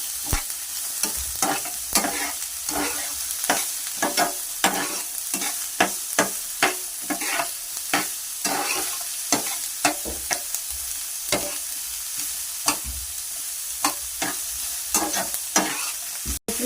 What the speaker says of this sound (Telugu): ఎర్రగడ్డలు ఇందులో వేసుకోవాలి. ఇలా కలుపుకోవాలన్నీ.